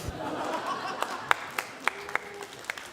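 An audience at a church youth service in Gunsan applauds three young people, a short burst of scattered clapping with sharp individual claps standing out over a soft wash of crowd noise.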